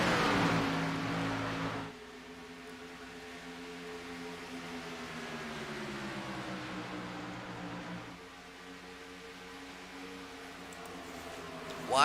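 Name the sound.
race cars on the track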